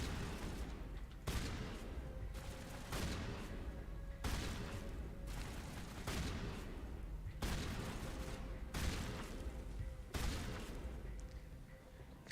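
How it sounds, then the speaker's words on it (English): Loud, dense bursts of gunfire in the video game Mass Effect, heavy volleys repeating roughly every second and a half in a sustained, rhythmic barrage with no talk over it. "We're shooting them nonetheless."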